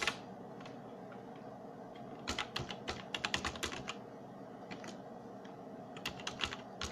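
Keys clatter in a few quick bursts of typing on a faulty computer keyboard, close and fairly quiet, with short pauses between the clusters.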